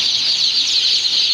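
Hybrid Sonali chicken chicks chirp together in a continuous high-pitched peeping chorus, fairly close and steady, with no talking.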